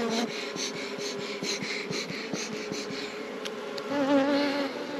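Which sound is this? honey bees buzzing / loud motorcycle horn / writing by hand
honey bees buzzing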